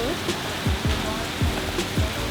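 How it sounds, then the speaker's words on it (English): Heavy rain pours down on flooded streets in Kandy, Sri Lanka, a steady broadband wash with scattered nearer splashes and low thumps underneath throughout. "They didn't say it would be absolutely raining like hell."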